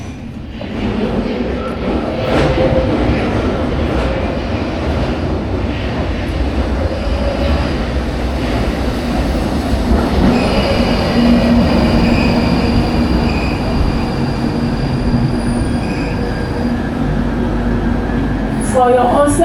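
A train rumbles into a station platform, with a steady loud roar of wheels and carriages and faint squealing, continuous throughout with no clear talk.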